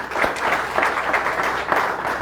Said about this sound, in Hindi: हमारे तालियों से स्वागत करें